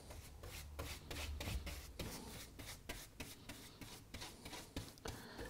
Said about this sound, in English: So let's whack a bit of paint on.